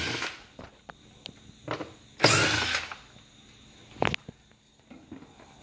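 A power drill backs screws out of a 2018 Silverado door panel in several short, separate bursts, one longer whir in the middle, with quiet handling between.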